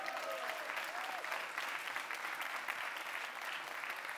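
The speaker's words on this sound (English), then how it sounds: "A round of applause for her." A large audience at a science-communication competition final applauds steadily, dense clapping throughout with a few faint voices underneath.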